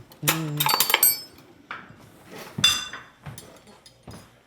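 Cutlery and dishes clink as someone gathers utensils at a kitchen counter, a loud clatter at first followed by scattered lighter metallic taps.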